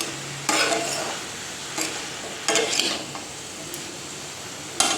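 Chopped greens and vegetables stirred in a pan, a few separate scraping, rustling strokes over a steady low sizzle, no talking.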